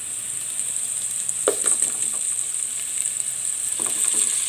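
Chicken pieces with turmeric sizzle in hot oil in a pan, a steady bright hiss with a few louder pops and stirring scrapes, close by and with no talking.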